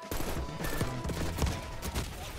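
Rapid gunfire from a match in the video game Call of Duty Black Ops 6, dense overlapping shots and bursts fired close and loud over a busy battle din for a couple of seconds.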